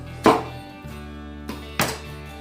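A knife splits a goblin fingers fruit in half with two sharp, close chopping thunks about a second and a half apart, over a faint low hum.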